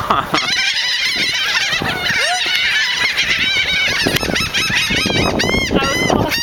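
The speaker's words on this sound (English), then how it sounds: "that concludes our taping of how to feed seagulls" A flock of seagulls squawks and cries loudly while being fed pepperoni pizza, with overlapping harsh calls throughout and people's voices mixed in beneath.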